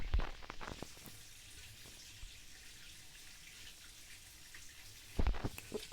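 Steady rushing water from a waterfall in the video game Brawl Stars runs continuously, a constant splashing wash with a few clicks at the start and end.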